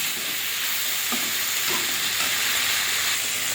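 A paste of poppy seed, ginger, cumin and coriander sizzles and fries loudly in a pan for a light fish curry, with the scrape of stirring now and then and no voices.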